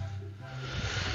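A cat hisses in a short breathy burst over a low, steady hum, lasting about a second.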